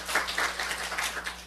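Congregation clapping during a Sunday church service, a steady wash of many hands applauding together at moderate volume, with no voices over it.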